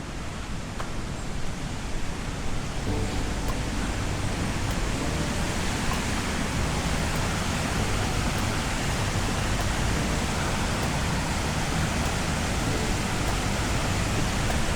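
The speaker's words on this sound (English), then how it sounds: "stunning waterfall." The Glendalough waterfall in Wicklow roars with a steady, broad rush of falling water, loud and unbroken throughout, with no voices.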